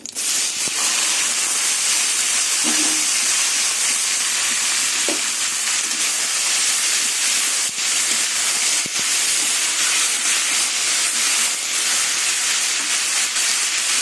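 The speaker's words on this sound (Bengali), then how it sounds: "এবার সেদ্ধ করা চাল কুমড়োগুলো দিয়ে দেবো" Boiled ash gourd pieces go into a hot pan of oil and sizzle steadily. A loud, continuous frying hiss runs throughout, with occasional faint scrapes and light knocks of a utensil.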